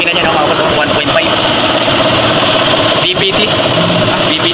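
A GAC Motor 1.5-litre double cam engine idles at close range during a maintenance check-up, a loud steady mechanical drone with faint ticking, while people talk over it.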